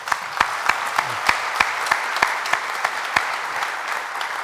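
Steady crowd applause with a dense patter of clapping, punctuated by several sharper, louder claps standing out at a fairly regular pace.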